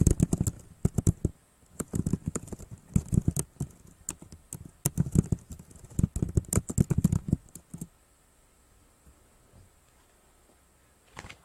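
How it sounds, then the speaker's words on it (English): Someone types on a computer keyboard in bursts of rapid key clicks with short pauses. The typing stops after about eight seconds, leaving quiet room tone. "let me type this in"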